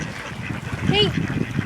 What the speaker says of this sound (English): this is our little male ducky.